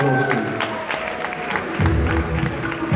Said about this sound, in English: Can we give Natalie a massive round of applause, please